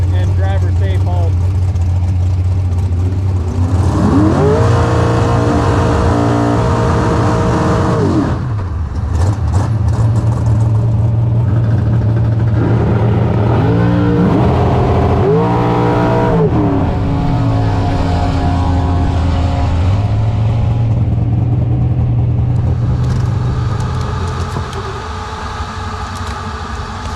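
A drag race car with nitrous on board, its engine roaring loud and close during a pass, revs climbing and dropping through gear changes with a droning background, and a voice talking over it.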